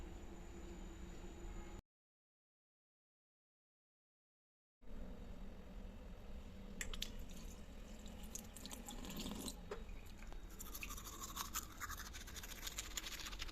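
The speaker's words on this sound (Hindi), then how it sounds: "तो चलिए सबसे पहले ब्रश करते हैं।" A toothbrush scrubs teeth up close, a faint steady brushing hiss broken by a few seconds of total silence, then resuming with sharper scraping strokes and small wet clicks, no talking.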